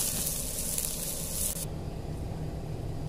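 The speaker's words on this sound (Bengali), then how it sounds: "একটু তেল দিয়া এরপরে মরিচ, কাঁচামরিচ আর রসুন দিয়া আর একটু পেঁয়াজ দিয়া বাইজে লমু" Green chilies, garlic and onion frying in oil give a steady sizzling hiss, close and even, with the bright crackle easing slightly partway through.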